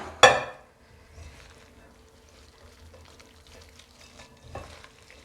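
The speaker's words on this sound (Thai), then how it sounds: "ตั้งน้ำมันร้อนแล้วก็ใส่พริกทอด พริกลงไปทอดจ้ะ" Chillies drop into hot oil with a sharp burst of sizzling, then a low steady frying hiss continues with faint stirring and a second louder spatter near the end.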